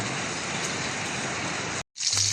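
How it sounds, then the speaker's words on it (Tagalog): Heavy monsoon rain pours down in a dense, unbroken hiss, cutting out briefly near the end before resuming. "Walang tigil na pagbuhos ng ulan."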